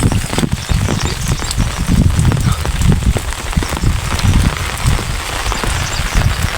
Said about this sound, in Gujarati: એમ વરસાદ ચાલુ જ છે.